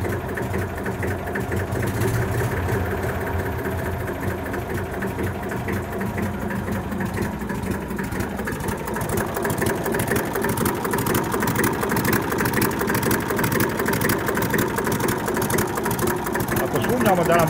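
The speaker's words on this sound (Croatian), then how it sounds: "Traktor je ozračen i radi dobro." A tractor's diesel engine idling steadily after air is bled from its fuel lines, a loud, even mechanical clatter close by throughout, with a voice talking over it.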